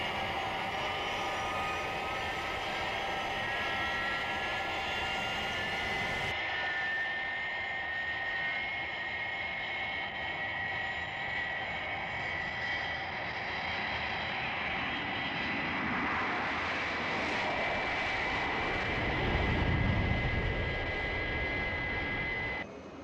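An aircraft engine roars continuously as the plane goes through the sound barrier, a dense rushing drone that thins out partway through, then swells to a louder low rumble near the end.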